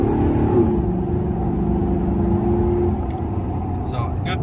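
A 2000 GMC Sierra pickup with a 5.3 V8, cold air intake and Corsa exhaust idles with a steady, close engine rumble that swells slightly into a mild rev, with a voice talking over it.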